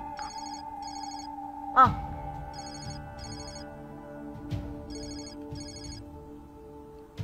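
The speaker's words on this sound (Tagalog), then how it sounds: "Yung cellphone mo, kanina-kanina pa nagre-ring yan." A cellphone ringtone rings in repeated pairs of bright electronic trills with short gaps, over a steady low hum, with one brief exclamation from a voice.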